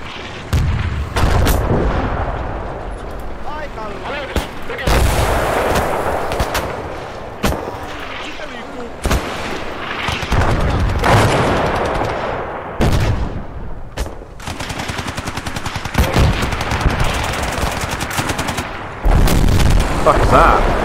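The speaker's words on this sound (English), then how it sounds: "It was a mortar, and they killed a vehicle." Mortar rounds and explosions in the World War II strategy game Gates of Hell on a Finland campaign, heavy booms and sharp gunfire cracks repeating irregularly over twenty seconds amid constant battle noise.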